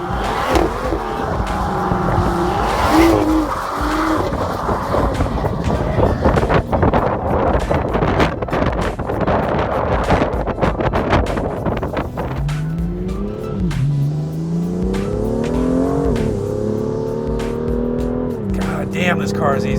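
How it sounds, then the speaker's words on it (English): A Dinan-tuned BMW M2 S2 inline-six engine revving hard from inside the car, with rising and falling engine tones through gear changes, wind noise and someone talking over it. "you want to drive it faster and faster to hear that inline six sing its song"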